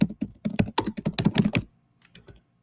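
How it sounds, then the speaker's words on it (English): Fast, close clicking of computer keyboard typing comes in quick bursts for about a second and a half, then a few softer, sparser keystrokes follow. "So I've typed in Philip Rickahoff"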